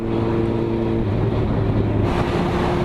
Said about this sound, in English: Oh, that nice Corvette.